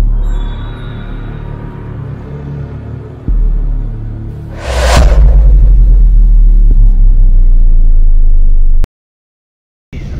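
A 20-seater Tempo Traveller van drives with a loud, steady low engine rumble and road noise, a brief whooshing burst midway, then sudden silence near the end before the rumble returns.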